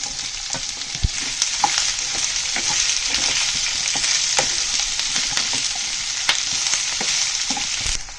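Chopped onion and capsicum frying in hot oil in a pan, a continuous loud close sizzle with occasional sharp knocks of a spatula against the pan.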